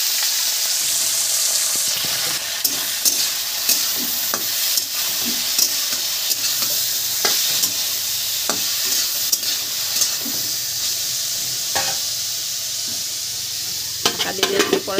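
Potatoes fry in hot oil seasoned with kalonji while being stirred, giving a steady bright sizzle broken by irregular scrapes and clinks of the spoon against the pan, heard up close with no talk.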